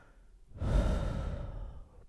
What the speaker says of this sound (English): Then breathe.